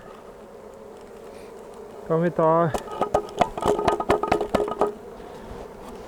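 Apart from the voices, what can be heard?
honeybees buzzing while the hive box is opened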